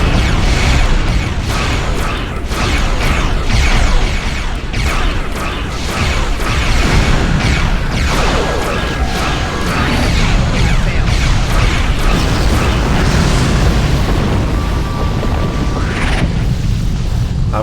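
Repeated booming explosions and crashing space-battle effects from the Star Trek Online game, a Romulan-Federation starship campaign mission, loud and dense throughout with continuous rumbling layered over mechanical sounds.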